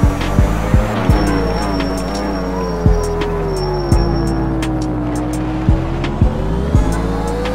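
A Yamaha YZR-M1 MotoGP 2018 racing motorcycle in the GP Bikes game, a loud continuous engine drone rising and falling in pitch, punctuated by sharp clicks of gear shifts and thumps, close and alone.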